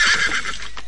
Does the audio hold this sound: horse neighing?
yes